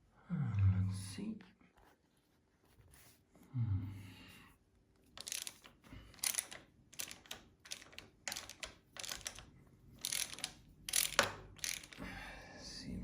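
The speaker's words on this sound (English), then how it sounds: "Disconnect some bolts here." A ratchet wrench undoes bolts on the front brake of a Harley chopper, giving close, rapid bursts of sharp clicking in repeated runs. Someone speaks briefly near the start.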